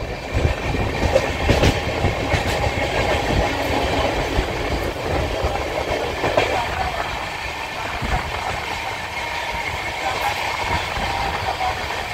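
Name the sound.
train running on rails, sleeper coach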